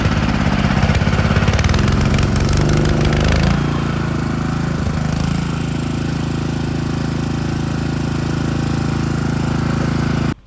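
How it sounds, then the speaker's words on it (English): Propane-powered generator running out of gas, a loud, close engine that chugs and stutters unevenly, changes pitch partway through and then cuts out abruptly at the end. "running that generator. It started sounding erratic,"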